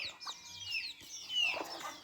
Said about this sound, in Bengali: আর এই যে আমাদের আর একটা মোরগ